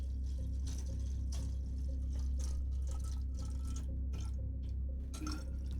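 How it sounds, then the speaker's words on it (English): Water is poured indoors, a soft, steady liquid trickle with light splashy drips, close and quiet, no voices. "Sorry, I'm pouring some water."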